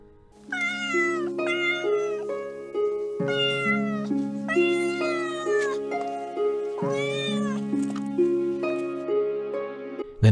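A mother cat meows loudly and continuously at close range, with long drawn-out, wailing calls rising and falling over about ten seconds and no other voices.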